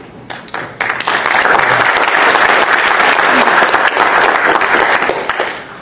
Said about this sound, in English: I'm not sure you should clap.